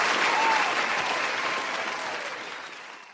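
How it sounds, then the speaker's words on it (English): A round of applause from a crowd, dense steady clapping that starts full and gradually fades away over a few seconds. "let's give a round of applause"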